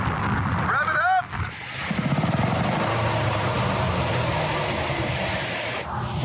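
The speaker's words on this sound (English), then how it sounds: "Rev it up!" A car engine with a fault that makes an odd noise revs up and holds a steady, droning roar for several seconds, with voices talking at the start.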